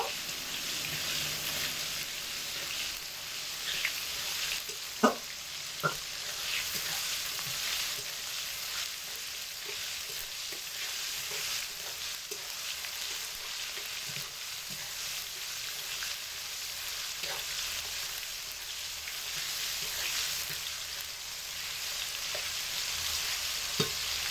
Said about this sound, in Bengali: একসাথে 1 মিনিট সময় ধরে কষিয়ে নেব।